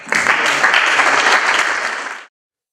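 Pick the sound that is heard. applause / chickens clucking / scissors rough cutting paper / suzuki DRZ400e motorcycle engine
applause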